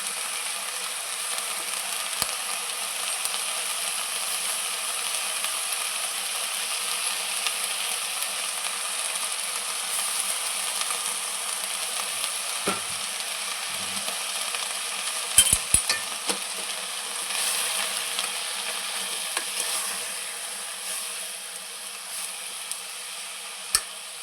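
Onions frying in a pan for a sarghva leaf bhaji, a steady loud sizzle with scraping stirs and a few sharp clicks of the utensil against the pan midway, without any talking.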